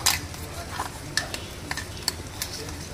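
Grated coconut fries in oil as it is stirred in a pan. A soft sizzle runs under repeated light scrapes and clinks of a utensil, with no talk.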